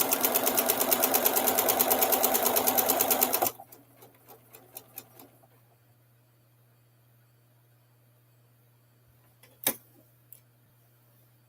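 A sewing machine runs in a steady rapid stitching burst through fabric for several seconds, then stops, followed by faint handling clicks and a quiet low hum.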